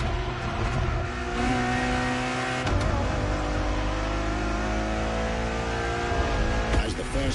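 A Ferrari Enzo's engine in the racing game The Crew Motorfest, a steady loud drone with shifting revs and a brief gear-change dip, running continuously beneath a narrator's voice.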